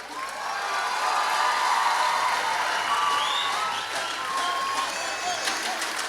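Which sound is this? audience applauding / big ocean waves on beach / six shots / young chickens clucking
audience applauding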